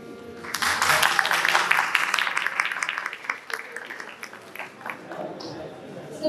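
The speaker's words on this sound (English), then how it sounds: "A big round of applause for all of them" An audience at a Christmas carol singing competition claps for the choirs, with dense applause swelling quickly then tapering off into scattered claps, moderately loud, with a voice speaking near the end.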